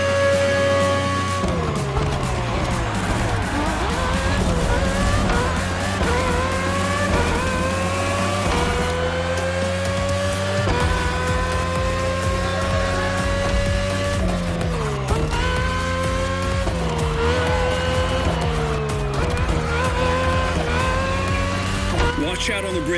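Red Bull RB18 Formula race car with a Honda engine in The Crew Motorfest, its high-pitched engine whine rising and falling steadily through gear shifts, loud and continuous with occasional tire noise.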